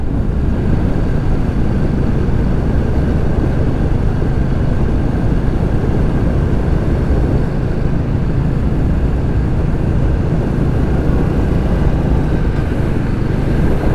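A Royal Enfield Classic 350 motorcycle on the road after downshifting lets out a loud, steady engine drone mixed with heavy wind rush. It holds constant without a break.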